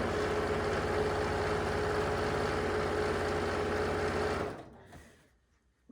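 A sewing machine runs a pillowcase seam at 1/4 inch in one continuous, loud, close burst for about four seconds, then cuts off into near silence, with no talking.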